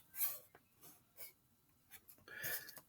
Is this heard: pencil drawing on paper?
yes